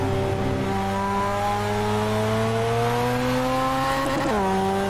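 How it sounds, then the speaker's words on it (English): A Mazda RX7 Spirit R rotary engine lapping Silverstone hums loud and steady, its smooth buzzing tone rising slowly through a long pull before dropping sharply near the end. "if sound is anything to go by, this engine sounds really special"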